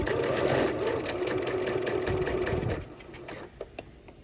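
A sewing machine back-stitches through the seam allowance of pajama shorts, a close steady hum of rapid stitching that slows and stops partway, followed by a few light clicks.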